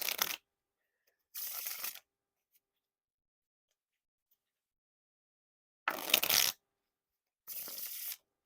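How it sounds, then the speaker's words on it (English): Broken Crowns playing cards being riffle and bridge shuffled, four short crisp bursts of rapid card flutter separated by silent pauses, close and clear. "the riffle shuffle, the bridge shuffles are nice and smooth"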